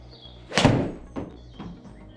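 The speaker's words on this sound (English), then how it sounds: "so I'm gonna hit the iron 7." A 7 iron strikes a golf ball on an OptiShot 2 indoor simulator, one sharp close thwack followed by fainter thuds as the ball hits the screen, with no talking.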